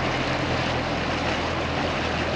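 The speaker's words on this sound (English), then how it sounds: "Can you hear like an engine?" A steady low engine drone hangs over a desolate acid mine drainage site in Pennsylvania, distant and continuous under broad wind-like noise, with no talking.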